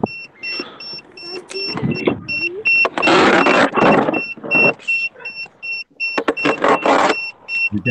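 An RC car beeps repeatedly in steady, evenly spaced electronic tones that carry through loud bursts of handling noise and nearby talk.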